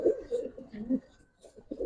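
Pigeons coo softly at a racing pigeon farm, a few low throaty coos in short bursts, faint and close, with quiet background noise.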